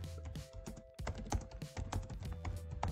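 Quick, uneven typing on a computer keyboard, with a dense run of close clicks and taps that speed up and slow down throughout and no talking.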